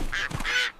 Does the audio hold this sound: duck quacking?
yes